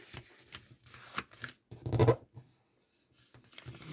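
Paper being creased along fold lines for a scrapbook album structure, heard as close, crisp rustles and short scraping strokes, with one louder crumpling burst midway and no talking.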